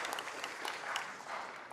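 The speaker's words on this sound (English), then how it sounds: "can we give just a round of applause to the entire commission and the executive director" Quiet applause from a city council meeting audience honoring the commission and executive director, a thin patter of clapping heard at a distance without any voices.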